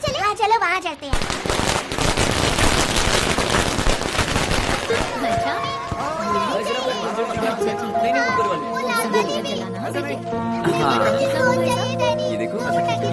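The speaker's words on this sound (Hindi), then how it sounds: "राजू राजू, वहाँ बहुत पटाखे हैं, क्यों ना हम वहाँ चले?" Firecrackers going off in rapid crackling, popping bursts for the first several seconds, loud and close, then thinning out as voices talk and children play nearby.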